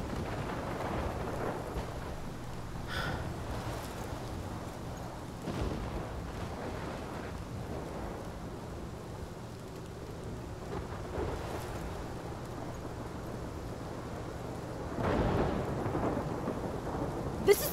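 Thunderstorm in the video game Life is Strange: a steady wash of rain under rolling thunder, with sharper cracks near 3, 5.5 and 15 seconds and a loud rumble building toward the end, no voices.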